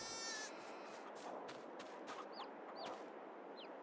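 Farm-game chicken coop with hens and a rooster in Farming Simulator 22: soft clucks and short chirping calls repeating over a steady ambient hiss, fairly faint and close.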